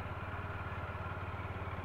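Several motorcycles idle steadily together before setting off on a Leh–Manali Highway road trip, a continuous low, pulsing engine chug throughout with no talk over it.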